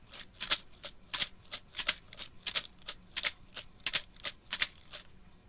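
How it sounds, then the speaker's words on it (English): A light foil shaker struck in a steady eighth-note rhythm, about fifteen crisp bright hits over several seconds, close and fairly quiet with no voices. "I then used the light sounding foil shaker to record hits on every 8th note."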